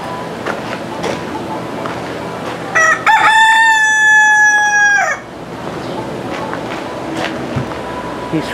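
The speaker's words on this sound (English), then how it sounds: "This rooster is making himself comfortable" A rooster crows once at a zoo, loud and close, a long harmonic call lasting a couple of seconds over outdoor background noise.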